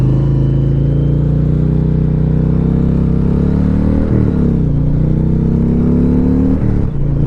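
A 2021 Indian Challenger Limited motorcycle engine pulling hard under acceleration, a loud, close, continuous low roar with rising pitch and brief dips as it shifts, wind rushing behind it.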